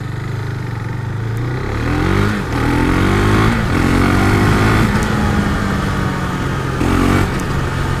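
A Husqvarna Vitpilen 401 motorcycle with its stock exhaust, engine revving up and down in repeated surges, loud and close with a throaty, rising pitch.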